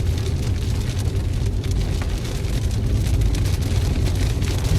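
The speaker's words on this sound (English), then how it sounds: "This has got to be a moderate rate of rainfall here, at least, maybe heavy." Heavy rain pouring during a windstorm in Washington State, a loud, dense, unbroken roar of drops with a deep rumbling undertone, close by and constant, with no voices.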